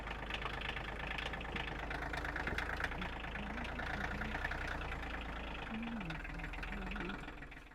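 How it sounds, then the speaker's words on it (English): A tractor engine idles nearby with a low steady rumble and knocking pulse, while a person speaks quietly over it on a homestead. "I need to move the tractor out, so let me get that out of the way first."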